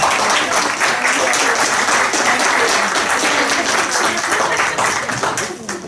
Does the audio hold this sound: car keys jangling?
no